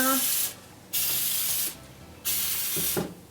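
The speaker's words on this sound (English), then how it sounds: "Round 2 of spraying." Three sharp bursts of aerosol oven cleaner spray hiss close up inside a self-cleaning oven, separated by short pauses, with faint clicks between.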